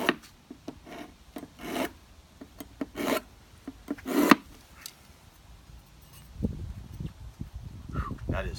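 A thick metal spatula being sharpened by hand with rough, rasping strokes in uneven bursts, then softer scraping and rubbing toward the end.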